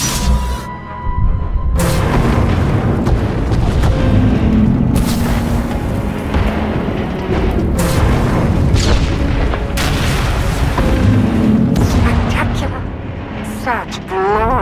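Failsafe weapon fired in a Star Wars Sith Warrior game, producing loud, sustained rumbling booms and explosive bursts that layer over a constant background score, with a couple of sharper blasts standing out.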